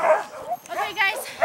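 Sled dogs on a dog-sledding run in Sudbury bark and yip in short, close bursts, with a voice talking over them.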